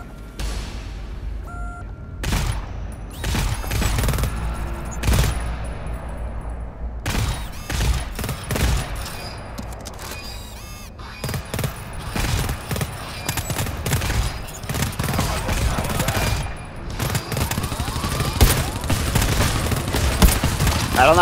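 Burst sentry guns in the co-op shooter GTFO fire repeated sharp volleys for about twenty seconds. Booming impacts and other game noise mix in, and there is no talk.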